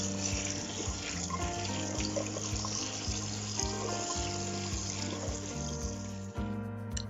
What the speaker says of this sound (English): Easier to wash it in a strainer like this.